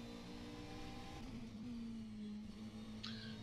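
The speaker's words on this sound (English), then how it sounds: "The engine sound is one slightly lower for other cars." McLaren 650S GT3 race car engine in rFactor 2, a faint steady hum with a slight rise in revs, heard from a distance under the sound of other traffic.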